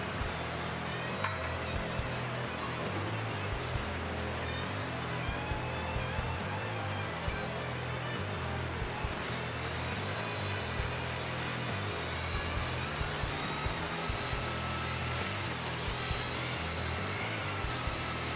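A drill fitted with a mixing head whips fast-set concrete, producing a continuous whirring, grinding drone of even loudness for the whole stretch, with no voices over it.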